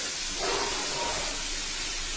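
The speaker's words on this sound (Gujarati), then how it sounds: "ઘી ગરમ થઈ ગયું છે. આપણે આ ખમણ નાખી દઈએ." Grated coconut dropped into hot ghee in a pan gives a soft, even hiss that swells slightly at the start and then holds steady, close by with no talk.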